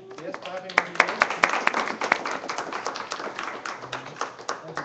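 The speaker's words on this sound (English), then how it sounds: "Yes, clap in your hands." Congregation of a small Bible fellowship claps hands at a deacon's ordination, a sustained spread of overlapping claps with sharp individual hits standing out, while a voice speaks under the clapping.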